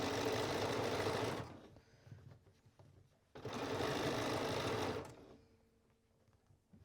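A sewing machine back stitching elastic onto the seam allowance of a lined dress, two loud close bursts of rapid whirring stitching, each about one and a half seconds long, with a quiet pause between them.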